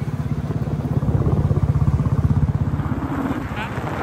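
A motorcycle engine drones steadily with a throbbing low pulse, rising slightly mid-way, heard up close while riding through cold forest near Bardi Pahar, Bankura, with wind rushing in the background.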